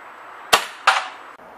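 Two quick sharp snaps from a Tokyo Marui M870 Tactical airsoft shotgun firing at a target 20 meters away, spaced under half a second apart over a faint background hiss.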